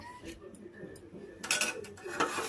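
Plastic strainer handled while straining cooled homemade hair oil, soft clinks and light scrapes at close range, quiet at first and then a louder clatter near the end.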